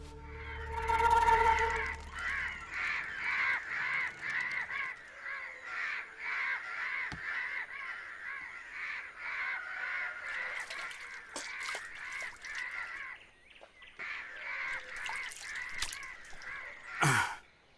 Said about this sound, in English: these crows are big trouble.